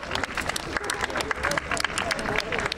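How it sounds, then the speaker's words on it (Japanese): An audience claps loudly and raggedly to welcome two police mascots at a spring traffic-safety opening concert by the Osaka Prefectural Police band, with crowd chatter and voices mixed into the applause. "皆さん大きな拍手でお迎えください"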